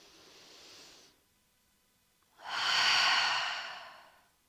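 Two deep yoga breaths, a softer exhale followed by a long, loud, close inhale through the nose or mouth during a hip-mobility session, with a brief quiet gap between them and no talking.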